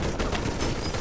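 Dense, continuous machine gun fire in the Toy Soldiers video game, a loud unbroken rattle of rapid shots.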